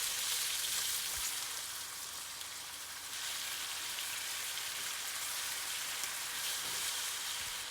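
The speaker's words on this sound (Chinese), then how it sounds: "接下来我们翻炒五花肉" Pork belly chunks stir-fried in oil and melted caramelized sugar, a steady broadband frying hiss like rain throughout, with faint low thumps of the spatula, no voices.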